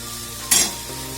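Ingredients medium-frying in a pan while being stirred for a Bengali home-cooked lunch: a steady, close sizzle with a brief louder hiss burst midway, no voices.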